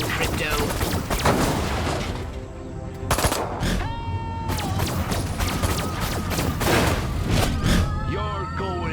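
Rapid bursts of gunfire in the Destroy All Humans remake, dense volleys of sharp shots with booms and thuds, steady and fairly close, with a voice speaking over the fighting.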